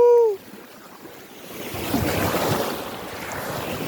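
Sea waves at a beach in Bicol, a soft rushing surf that swells after a brief quiet, washing steadily with wind buffeting the microphone.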